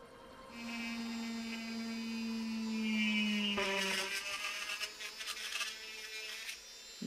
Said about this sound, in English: I'm going to carefully cut around the neck of this roll-on